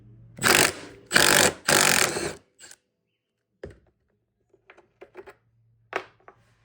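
A ratchet loosens Torx T40 bolts on the rear rack of a Gen 3 Can-Am Outlander ATV: three loud, close bursts of mechanical whirring, followed by a few faint, scattered clicks and taps.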